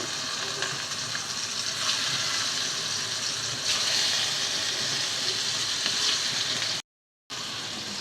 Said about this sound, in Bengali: মাছটা তেলে ছেড়ে দিচ্ছি।